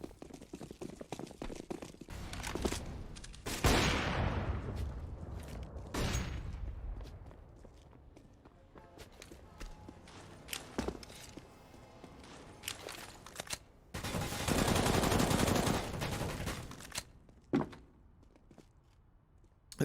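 Counter-Strike match on the Overpass map, with bursts of gunfire among footsteps and thuds, a loud volley around the middle and another dense burst later, with quieter gaps between.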